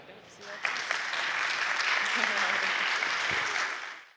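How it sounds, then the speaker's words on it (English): An audience at a White House cybersecurity and space event applauds two speakers, a steady wash of clapping that swells quickly, holds evenly for several seconds and then tapers off. "please give a round of applause to Tanya and Lauryn"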